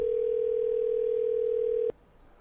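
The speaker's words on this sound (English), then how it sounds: "I just wanted to make sure it was ringing" Steady single-pitch telephone tone heard while placing a call through Google Voice, holding loud and unbroken for about two seconds before cutting off abruptly.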